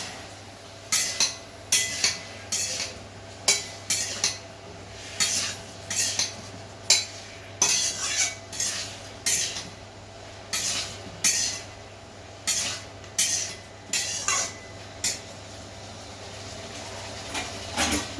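Spice paste for a rohu fish and cauliflower curry being fried and stirred in a pan, with a spatula scraping the pan in steady, repeated strokes about once a second over a faint background hum.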